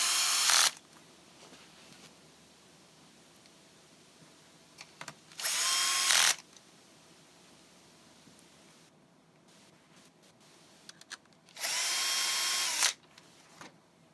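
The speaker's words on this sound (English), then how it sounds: "Let's go ahead and put these screws back on just to secure it." A power drill drives screws back into a Nissan Pathfinder dash panel in three short bursts of whirring, the longer ones near the middle and end, with quiet pauses between.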